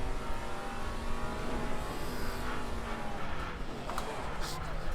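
Race car engine in Assetto Corsa Competizione, a GT4 car roaring steadily near the end of a short five-minute race, with revs rising and falling under a faint voice.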